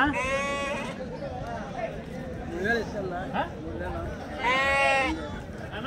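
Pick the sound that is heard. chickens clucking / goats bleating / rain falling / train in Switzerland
goats bleating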